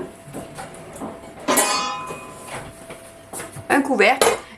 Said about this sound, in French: voilà, on va mettre un couvercle,